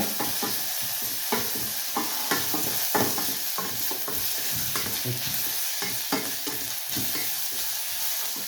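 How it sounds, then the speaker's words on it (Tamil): Curry leaves, fennel and mustard seeds stir-fry in hot oil, giving a loud, close sizzle broken by a regular rhythm of spatula scrapes and stirring strokes, with no talk. "கருவேப்பிலை கொஞ்சம் போடுறோம். அதோட எடுத்து வச்சுக்கிற பெருஞ்சீரகம், கடுகையும் போட்டு இதை மிக்ஸ் பண்ணுவோம்."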